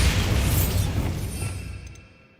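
Bombarda spell blast in Hogwarts Legacy, a single heavy booming explosion with a crackling burst that decays over about two seconds.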